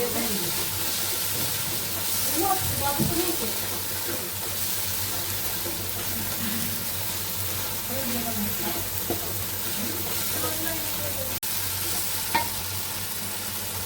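Mustard and turmeric spice paste fries in hot oil and is stirred steadily, giving a continuous moderate sizzle with scraping and clinks of the spoon; a faint voice surfaces briefly in the background.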